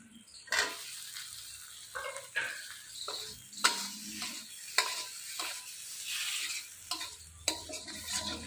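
Soft frying sizzle of tomatoes in a pan, broken by a series of sharp scraping and stirring clacks at irregular intervals, fairly quiet overall.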